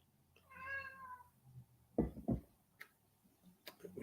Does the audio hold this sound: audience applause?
no